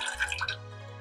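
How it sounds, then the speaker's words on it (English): Liquid seasonings such as soy sauce, cooking wine and rice vinegar trickle into a medium saucepan in a brief burst of dripping and splashing, then settle into a quiet low hum. "In a medium saucepan, we're going to add in some soy sauce and then some cooking wine and then some rice vinegar"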